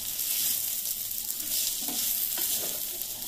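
Rice frying in ghee for chicken biryani, a steady close sizzle with stirring scrapes throughout and no voices.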